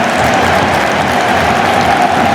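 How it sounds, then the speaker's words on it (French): A stadium crowd at the Vélodrome applauds as Thauvin leaves the pitch during a Marseille match against Lens, a steady, dense wash of clapping and crowd noise with no break. "Thauvin qui sort sous les applaudissements du Vélodrome"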